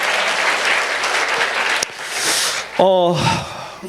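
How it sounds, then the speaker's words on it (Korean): An audience in a church gives a burst of applause at a fasting prayer meeting, steady clapping for a couple of seconds before it breaks off and a voice speaks over the tail. "박수 한번 해주세요"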